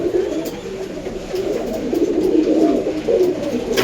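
Racing pigeons coo steadily and close by while being let out of their loft, with light fluttering and soft rustling underneath.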